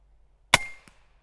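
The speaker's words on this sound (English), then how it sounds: "I'm going to shoot right over to the right here" .38 Special revolver fired with a heavy 158-grain round, one sharp, fairly quiet crack with a brief tail, followed by a faint distant impact knock a moment later.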